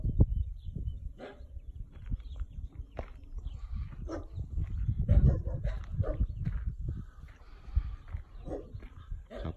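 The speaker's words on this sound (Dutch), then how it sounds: "De honden zullen wel tekeer gaan" Dogs bark excitedly in the kennels of an animal shelter, a steady overlapping chorus of close and distant barks with shuffling footsteps and some talk mixed in.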